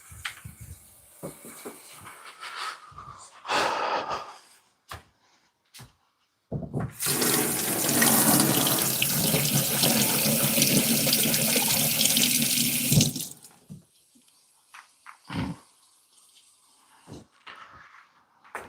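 A household tap runs into a sink while a small cut is washed, a loud steady gush lasting about six seconds, with scattered knocks and handling sounds before and after.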